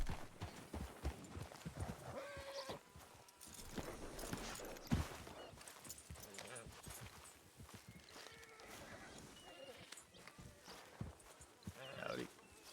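Horse hooves clip-clopping at a walk in a Red Dead roleplay video game, a steady uneven patter of light hoof falls, fairly quiet with occasional louder knocks.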